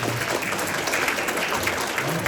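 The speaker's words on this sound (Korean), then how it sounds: "오늘 좋은 말씀을 해주신 오대화 관장님께 다시 한번 큰 박수 부탁드립니다" An audience at a Jeju business and tourism forum claps for a speaker, giving a steady, continuous burst of applause that fills the whole stretch.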